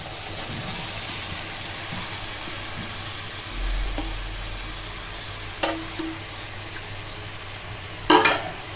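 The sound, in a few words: stirring vegetables frying in oil in a pan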